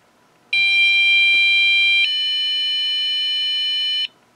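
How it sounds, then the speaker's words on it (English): An ISpy Defense home infrared alarm sounds a loud, steady electronic tone, alone and continuous for about three and a half seconds, shifting pitch slightly partway through before cutting off abruptly. "So that alarm there just goes off like that"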